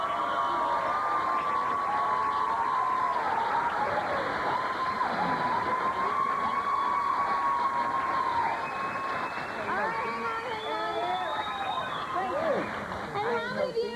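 Studio audience on a 1994 Ricki Lake talk show applauding in a vote by show of hands, a dense, steady wash of clapping and crowd noise lasting the whole stretch, with a voice talking over it.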